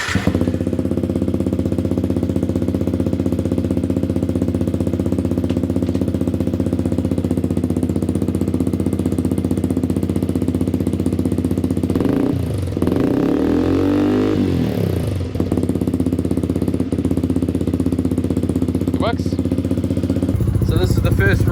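A motorcycle fitted with a new 12-tooth sprocket, a new ECU and an adjusted clutch is ridden, its engine droning loudly and steadily throughout with some changes in pitch, and wind rumble is mixed in.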